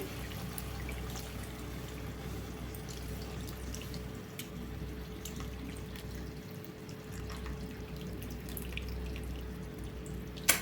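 A thin, steady stream of tamarind water pours and trickles through a strainer, with occasional drips and clinks, close and continuous.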